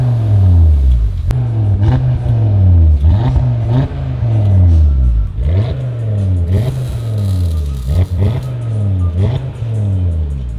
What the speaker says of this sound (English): We're gonna drop it, crank it, rev it